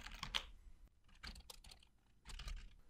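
Code being typed on a computer keyboard, quick bursts of close, crisp key clicks with short pauses between, quiet and with no talking.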